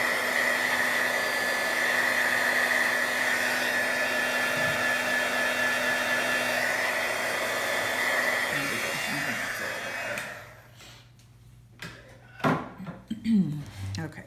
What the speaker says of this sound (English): you can grab your heat tool and just kind of heat it